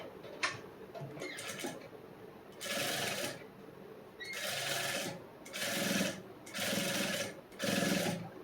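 A sewing machine stitches a blouse hem folded a quarter inch under, running in about five short bursts with pauses between, near and fairly loud, with light clicks and handling noise in the gaps.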